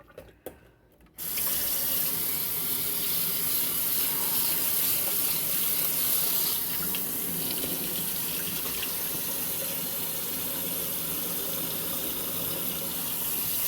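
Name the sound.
water running from tap, added to stew pot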